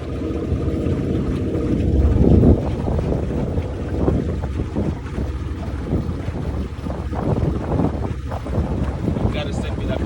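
A wooden pirogue speeds along a river in western Cameroon, its motor and hull roar steady and close with gusts of wind buffeting the microphone, swelling loudest early on, with faint voices underneath.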